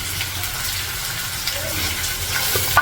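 Cumin, onions and green chillies fry in hot oil for a raw mango prawn curry, making a steady, fairly loud sizzle with small crackles throughout.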